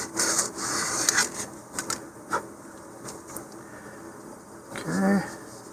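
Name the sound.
sanding inside edge of model rocket body tube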